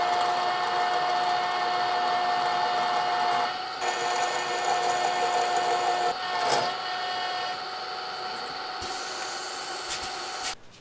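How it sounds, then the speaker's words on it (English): A valve guide machine drills out the guides of a '68 Firebird 350 cylinder head with a steady, high-pitched whine over a broad grinding hiss, its tone shifting slightly as the cut changes, with a few clanks. "drill all of the guides out so that we can replace them"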